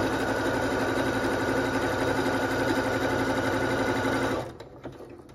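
A domestic sewing machine stitches fabric and elastic for a pair of panties, running in a steady, close, continuous whir for about four seconds before it stops abruptly and leaves quiet room tone.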